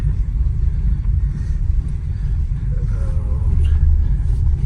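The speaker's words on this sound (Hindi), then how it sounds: "यहाँ से सबसे ज़्यादा मुश्किल होती है गाड़ी को चढ़ने में" An Ertiga car labours uphill through heavy snow, its engine a steady low rumble that stays loud and close throughout, with no voices over it.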